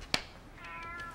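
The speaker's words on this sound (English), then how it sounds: "Oh, there's the neighbor's cat again." A neighbor's cat meows outdoors: a sharp click, then a drawn-out, wavering meow that rises and trails off, fairly close and clear, with no talking.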